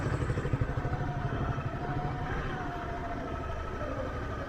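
A Honda CBR motorcycle crawls off-road in first gear down a steep, rough track, its mid-pitched engine chugging steadily and close with a pulsing, uneven throb and some clatter, no talk.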